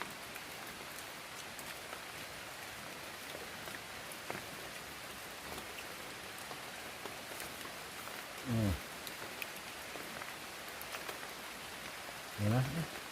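Heavy rain falls steadily in a forest, a dense constant hiss with no break, with two brief louder bumps near the end and faint voices in the background.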